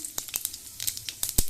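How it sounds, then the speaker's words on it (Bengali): Whole cumin seeds crackling in hot oil in a kadai, a quick run of sharp pops and spits over a faint sizzle, close and fairly quiet. "গোটা জিরে দিয়ে দিলাম"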